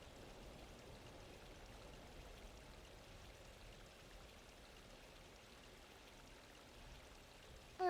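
Water flows and trickles gently in the video game Final Fantasy XIV, a soft, continuous stream-like wash heard faintly and alone for several seconds.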